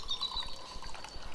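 Water from a bottle is drunk, a brief run of faint sloshing and gulping liquid sounds close by with no talk.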